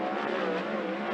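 A 410 sprint car lapping the dirt oval at Skagit Speedway, its engine a loud, sustained high-revving drone heard from trackside for a brief moment, with no talk over it.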